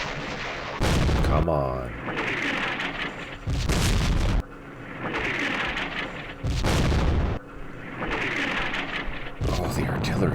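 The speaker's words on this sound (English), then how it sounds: "Oh, the artillery is brutal." Heavy artillery barrages in the Vietnam war game Campaign Series Vietnam, set at Dien Bien Phu: loud booming blasts land about every three seconds, each with a rumbling tail, and a man mutters briefly between them.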